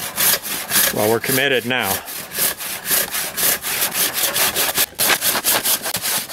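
A hand saw cuts through green wood in steady, rhythmic back-and-forth strokes, close and loud. Someone speaks briefly over the sawing.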